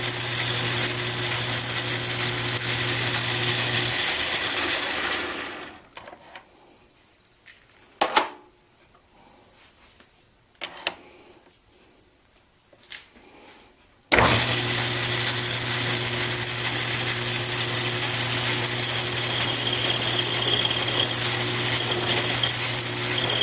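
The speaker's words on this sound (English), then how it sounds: "Just taking a very light cut just to improve the finish a little bit." A metal lathe takes a very light finishing cut, its motor whining loud and steady, then dropping away into near silence with a few small clinks before the steady whine resumes; no speech.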